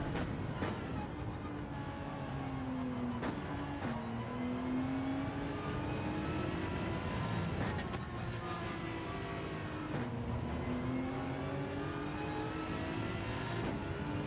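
Gran Turismo 7 race cars jostle for position in a league race, engines droning steadily with rising and falling pitch as cars overtake, a few sharp shifts cutting through the continuous close roar.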